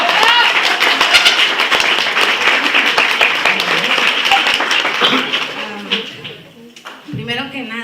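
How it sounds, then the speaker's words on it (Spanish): Audience applauds a teacher at a business talk, a dense roar of clapping for several seconds that thins and fades out, followed by a voice starting to speak. "Les voy a pedir que le brindemos un fuerte aplauso"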